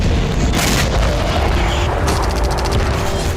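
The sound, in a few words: explosions in war footage from Ukraine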